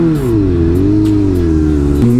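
Suzuki GSX-R 600 K4 sport motorcycle engine running loud and close, a strong harmonic drone that dips and rises gently in pitch, with a slight rev change near the end.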